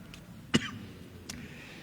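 A man giving a religious lesson lets out one sharp, close cough, followed a moment later by a fainter second cough or throat sound against a quiet room.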